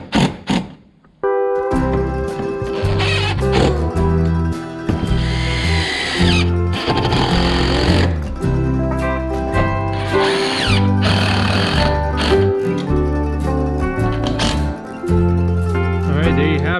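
A power drill driving screws into a metal roof, loud and close, in repeated whining bursts of several seconds each separated by short pauses, with faint voices now and then.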